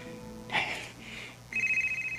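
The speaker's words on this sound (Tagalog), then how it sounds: "Ay, may bagting nga akong cellphone." Cellphone ringing with a repeating electronic ringtone melody, moderately loud, sounding in pulses over a low background hum.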